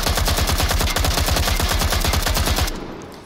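An AK-47 rifle in the Onward VR shooter fires in one long, steady full-auto burst until the magazine runs empty, loud and close with an even rapid rhythm, then abruptly stops into quiet.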